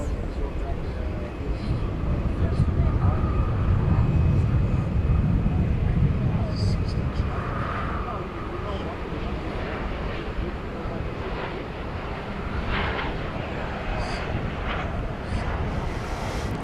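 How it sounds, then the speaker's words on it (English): An American Eagle CRJ 701ER regional jet from Colorado Springs at DFW at night, a broad, steady engine roar swelling early then holding as a constant rumble, with a voice talking over it. "6234 from Colorado Springs. It will be a CRJ 701ER right here on Runway DFW."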